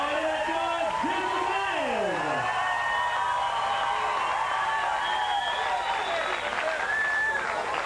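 A beach volleyball crowd at a center court match applauding and cheering, a broad wash of clapping and whoops heard from the stands, with a commentator talking over it.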